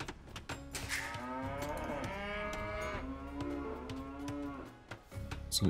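A cow from the video game Age of Empires 2 moos in a long, drawn-out low call, fairly quiet and alone, with a few faint clicks around it.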